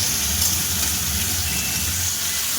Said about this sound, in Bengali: তিনটে কাঁচা লঙ্কা দিয়ে দিলাম একটু ভাজা হোক